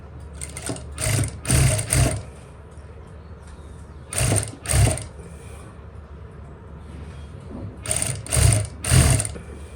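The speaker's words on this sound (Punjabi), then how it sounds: "ਤੇ ਇਦਾਂ ਆਪਾਂ ਸਲਾਈ ਲਾਉਣੀ ਸ਼ੁਰੂ ਕਰਾਂਗੇ" A sewing machine stitching lace onto a salwar, running in three clusters of short rattling bursts separated by quiet pauses, close and moderately loud, with no talking.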